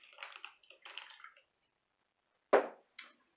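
Water is poured over Kentucky coffee tree seeds to soak them, two short splashy gushes followed after a pause by a sharp slosh and a final small splash, close and quiet.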